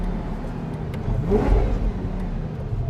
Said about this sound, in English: Oh, it pops a little bit more already.